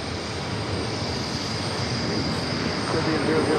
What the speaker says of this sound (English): Cancun A321, JetBlue flight 1051. Now rolling down 4 left.